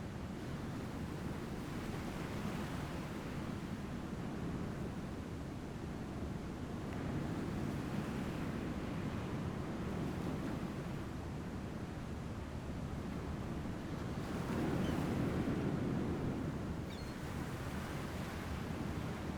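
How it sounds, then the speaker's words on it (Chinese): Distant sea surf rolls in a steady, soft wash, swelling and fading in slow surges with some wind noise. "远远听到海浪的声音哦。"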